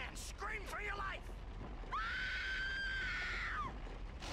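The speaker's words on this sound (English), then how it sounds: "That was a good scream." A loud, drawn-out scream in the Peter Jackson's King Kong video game on Skull Island comes after shorter wavering cries, and a voice talks beneath it.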